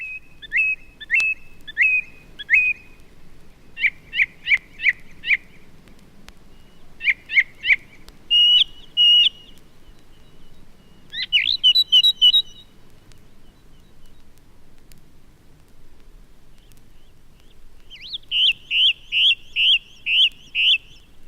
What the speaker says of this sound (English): Many song thrushes have left too, but a few can often be heard tuning up with great variety and vivacity.